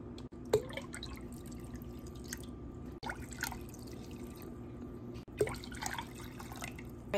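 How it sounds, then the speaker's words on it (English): Cold water trickles and drips into a bee feeder, a quiet wet patter with a few sharper splashes and brief gaps. "So I'm gonna get some cold water and put it in there now."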